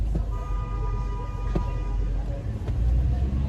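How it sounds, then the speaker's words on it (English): Road traffic during school-hour congestion, with passing cars and a few short car horn toots over a steady low rumble, nearby and moderately loud. "Traffic is starting to pick up. You hear the horns?"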